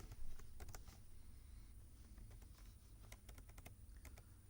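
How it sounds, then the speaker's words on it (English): Quiet keystrokes on a computer keyboard while a math formula is entered, irregular clicks in short bursts over a low steady hum, no voices. "let's type it in"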